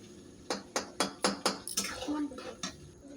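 Basmati rice for chicken biryani going into a pot of boiling water, heard as a quick run of soft splashing pours and clattering grain landing, followed by a brief bubbling pause and one last splash, fairly quiet and close.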